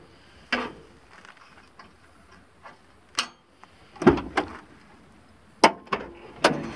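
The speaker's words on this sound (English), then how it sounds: "So you can open up the back." Rear doors of a Ford E-250 van being opened: a series of sharp metallic clunks and latch clicks, several separate bangs spread out, fairly close, with quiet gaps between.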